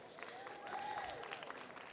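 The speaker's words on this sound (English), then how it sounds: "Give them a round of applause." Audience applause at a social media masterclass talk, a steady wash of clapping from a crowd filling the whole moment at moderate distance, fairly quiet overall with a faint murmur through it.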